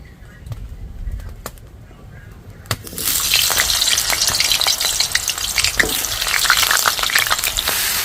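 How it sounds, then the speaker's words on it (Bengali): Potatoes dropped into hot mustard oil for aloo dum, bursting into a loud continuous crackling sizzle after a quieter start with a few clinks, close and with no talk. "তেল গরম হয়ে গেছে, এবার আলুগুলো দিয়ে দিচ্ছি।"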